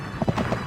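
Quick clip-clop of a horse pulling a cart in the PS1 game Scooby-Doo and the Cyber Chase, a few muffled hoof beats in fast succession over a dense, noisy game background.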